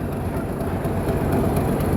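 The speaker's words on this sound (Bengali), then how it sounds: "এই যে এখানে একটি ট্রেন আসছিল, এটি মাত্র ঢাকাতে আসছে।" A train arriving at Kamalapur railway station in Dhaka at night, heard as a loud low rumble with rhythmic wheel clatter.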